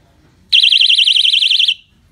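A Rockbross electric bicycle bell gives off a loud, shrill warbling electronic alarm tone for just over a second, rapidly wavering in pitch, then stops abruptly.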